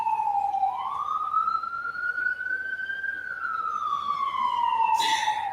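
A single siren wails close by, rising and falling slowly in one long sweep, over low traffic rumble, ending with a brief burst of noise.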